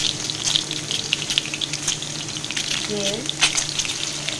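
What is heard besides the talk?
egg frying in a pan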